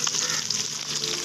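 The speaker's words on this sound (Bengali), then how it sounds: "এই যে দেখো মাছ ভাজা হয়ে যাচ্ছে" Fish fries in hot oil while people cook outdoors in the sun at a picnic, giving a steady, crackling sizzle heard alone at moderate volume.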